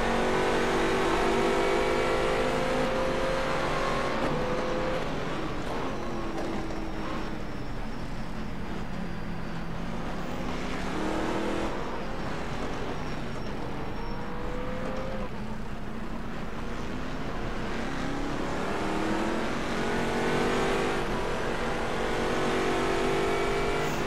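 GT4 race cars and faster cars racing at Silverstone in rFactor 2, with engines repeatedly revving up and dropping through gear shifts as cars pass one after another, loud and continuous with no talk.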